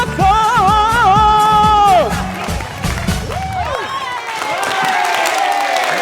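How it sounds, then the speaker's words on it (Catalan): A television studio audience applauds and cheers for a guest named Paco on a morning show set, with loud whoops and voices over the clapping that thin out and continue as scattered clapping and chatter. "Un aplaudiment per a Paco, que ho ha dit molt bé"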